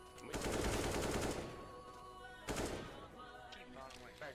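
Gunfire in the Counter-Strike video game: two bursts of rapid, close shots, a longer volley followed by a shorter one after a pause, with game sounds and faint voices underneath.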